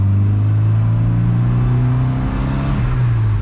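A Volvo Amazon classic car engine roars loudly and steadily nearby, its deep drone rising slightly in pitch as it accelerates, then easing off.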